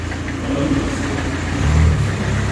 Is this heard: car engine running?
yes